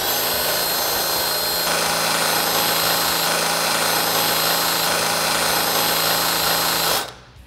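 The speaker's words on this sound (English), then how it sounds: "then we can step up to our half inch drill bit" A power drill bores through Jeep Wrangler JK metal with a half-inch bit during a suspension lift install, a loud steady whine that shifts pitch once and cuts off near the end.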